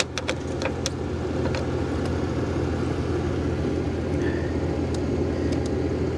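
Mercedes-Benz S420 W140 engine running at a salvage auction yard, a steady loud low rumble that holds throughout, with a few clicks and taps early on.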